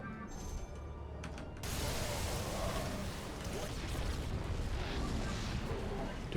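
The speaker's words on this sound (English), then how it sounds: "Look at the amount of explosions right now." Dense, continuous rumble of explosions as buildings are destroyed in StarCraft 2, with a low booming barrage swelling louder after the first second and holding steady.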